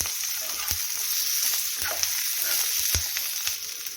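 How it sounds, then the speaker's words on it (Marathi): Green chili peppers roasting in a hot pan, a steady close sizzle and crackle with occasional sharp pops and stirring scrapes. "बाकीच्या मिरच्या अशाच प्रकारे भाजून घेऊ"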